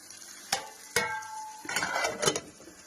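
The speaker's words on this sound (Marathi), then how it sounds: "कमी गॅसवरच असं करून घ्यायचं बघा गॅस जास्त तेज करायचंच नाही तर अशा मस्त परतून घ्यायच्या" Potatoes and spinach are stirred in a pan over a low gas flame, with a few sharp clinks of a spatula against metal and a soft sizzle between them.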